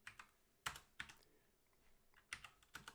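Quiet keystrokes on a computer keyboard, a handful of soft clicky taps spaced unevenly over a few seconds, close and isolated.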